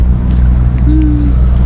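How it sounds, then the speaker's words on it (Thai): A large boat passes on the water, heard as a loud, steady low engine rumble and wash filling the whole moment, close by, with a brief rising tone in the middle and no talk. "โอ้ยเรือใหญ่"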